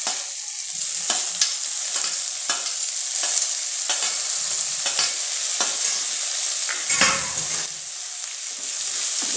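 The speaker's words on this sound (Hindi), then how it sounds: "हल्का सा प्याज फ्राई हो चुका है, अब इसमें बारीक कटा हुआ टमाटर डालेंगे।" Finely chopped tomato goes into onion frying in a pan for poha, then gets stirred: repeated scraping spoon strokes over a steady, close sizzle, with no talking.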